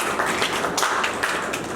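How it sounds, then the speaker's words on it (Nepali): A meeting audience claps in support, a dense, steady patter of many hands sustained at close range throughout, with no voices over it. "कृपया तपाईँहरूको चाहिँ समर्थन होस्, ताली बजाइदिनु होला समर्थनमा।"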